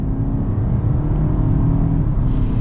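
A 2023 Nissan Altima SR AWD engine hums steadily at close range while accelerating, a continuous low drone that holds even throughout with no voices.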